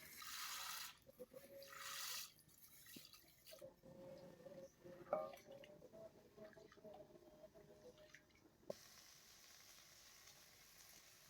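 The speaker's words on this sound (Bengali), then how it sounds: "এবার আমি ভালোভাবে চালটা ধুয়ে নেব।" Rice and lentils are rinsed in water in a bowl for egg khichuri. Quiet sloshing and dripping run through the clip with soft squishing handling, and there are brief louder rushes of water near the start.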